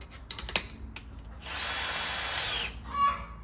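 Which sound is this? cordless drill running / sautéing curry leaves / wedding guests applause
cordless drill running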